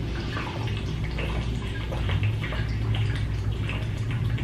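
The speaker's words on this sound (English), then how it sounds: "so I'm gonna chug some more water real quick" Someone gulps water from a 40-ounce bottle, a steady wet gurgling of swallows and sloshing liquid, close and continuous with no talk.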